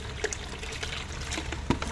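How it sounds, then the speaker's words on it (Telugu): Fresh water poured into a bucket holding water lily plants, giving a soft, steady trickle and splash with a few small knocks and clicks, close by and with no talking. "ఈ నీళ్లు కొద్దిగా వేసి మళ్ళీ ఫ్రెష్గా నీళ్లు పోస్తారు"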